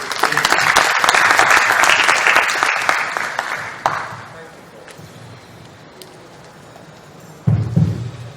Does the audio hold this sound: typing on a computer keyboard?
no